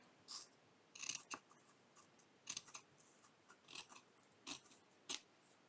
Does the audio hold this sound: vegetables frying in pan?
no